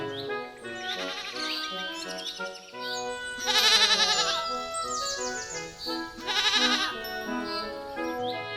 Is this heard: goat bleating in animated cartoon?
yes